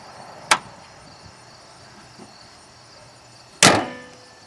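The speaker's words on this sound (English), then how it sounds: "So I close the hood." A hood slamming shut on a 2008 Honda Civic gives a loud, sharp thud late in the clip, with a fainter click earlier on.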